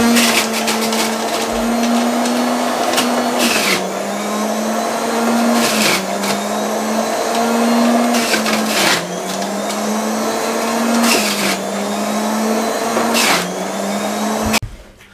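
A juicer machine runs steadily while making fresh winter juice, with a loud, continuous motor whine whose pitch dips briefly every few seconds as produce is fed in, close up and alone, ending abruptly.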